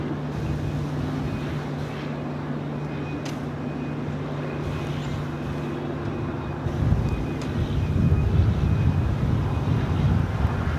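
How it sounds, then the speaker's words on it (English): A British Airways Boeing 777-300ER arriving at LAX from London Heathrow gives a steady distant jet roar mixed with wind buffeting the microphone, swelling louder toward the end. "This is British Airways Flight 283 coming in from London Heathrow on this 777-300ER."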